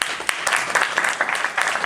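Audience applause at a San Jose community panel honoring a police bureau chief, a steady patter of clapping from a room of people lasting the whole moment at moderate volume.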